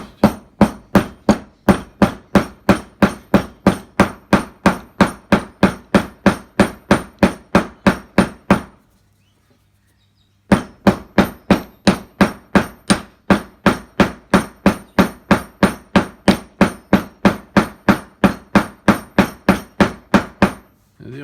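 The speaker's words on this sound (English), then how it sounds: "I'm just going to use a ball peen hammer" Rapid, steady ball peen hammer blows peening a wooden hammer handle, close and loud, in two long runs separated by a brief pause.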